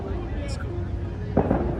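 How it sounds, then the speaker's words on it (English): Fireworks going off outdoors, a couple of muffled distant pops near the end over steady background noise, with faint crackle earlier. "Everyone's throwing up fireworks."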